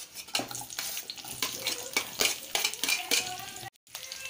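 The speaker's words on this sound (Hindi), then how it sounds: "इसमें मैंने सबसे पहले डाला है प्याज जिसे गोल्डन ब्राउन होने तक ऐसे ही चलाते रहेंगे" Onion sizzling in hot oil in a kadai as it is stirred for restaurant-style kadai paneer, with a steady crackling fry broken by repeated scraping and clinking of a utensil against the pan, close by with no talking.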